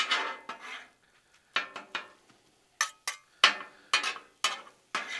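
Metal spatula scraping and clanking against a Blackstone griddle while mixing a breakfast sub filling of bacon, eggs and sausage, in irregular bursts of clinks and taps with short pauses between them.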